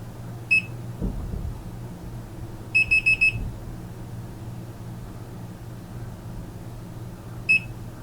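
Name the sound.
BMW F series instrument cluster beeping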